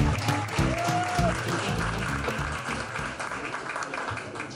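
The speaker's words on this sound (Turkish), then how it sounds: "Alkışlarınızla Deniz Eşek sahneye geliyor." Steady applause from a talk event audience in Ankara fills the room, a dense wash of clapping that holds fairly level before easing slightly toward the end.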